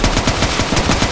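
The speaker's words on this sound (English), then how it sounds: "I'm hearing more and more gunshots every second" Rapid automatic gunfire in a Roblox hood roleplay game, loud, close bursts of evenly spaced shots in a tight repeating rhythm, with no talk over it.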